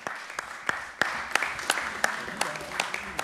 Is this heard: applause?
yes